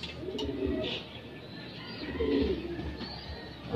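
Pigeons coo softly at a backyard loft, a few low murmuring calls rising and falling over faint outdoor background noise.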